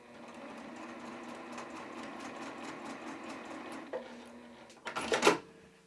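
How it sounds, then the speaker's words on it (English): A sewing machine stitches two quilt squares together for a heart log cabin block, with a quarter-inch seam and 2.5 stitch length. A steady, close mechanical whir runs for about four seconds, then a few louder clacks. "Let's sew together our 2 squares"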